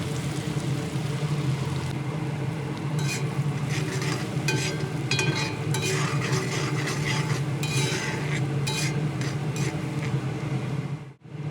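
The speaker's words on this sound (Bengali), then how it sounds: "পেঁয়াজ কুচি ভেজে গোল্ডেন কালার করে নিয়েছি।" Finely chopped onions fry to golden in a pan, a continuous loud sizzle with scattered scraping and utensil clatter, no voices.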